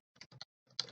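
A handful of quick keystrokes tap on a computer keyboard, two short clusters of clicks close up and soft in an otherwise silent moment.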